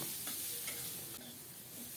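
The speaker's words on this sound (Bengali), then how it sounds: "এখন দিচ্ছি কুচানো পেঁয়াজ পেঁয়াজ সহ ফুলকপি আর কাঁচামরিচ আরও কিছুক্ষণ ভেজে নেব" Chopped onion, cauliflower and green chilli fry in a pan with a steady soft sizzle and a few stirring scrapes, heard up close and quiet with no talking.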